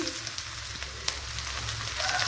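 Garlic and small onions frying in hot oil for a kadala paruppu (chana dal) curry, giving a steady, even sizzle that holds throughout with no talking.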